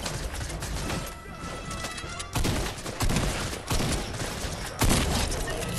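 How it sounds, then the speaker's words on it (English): A minigun in the video game Fortnite fires in rapid, sustained bursts with loud, sharp impacts recurring every second or so, up close, with no talking over it. "This is the minigun."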